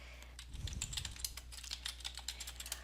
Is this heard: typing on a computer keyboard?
yes